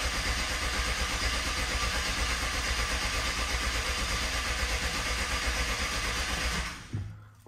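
A BMW 750Li with a suspected fuel pump problem runs loudly and steadily for its first start, a close, dense engine roar that holds evenly before abruptly cutting out near the end.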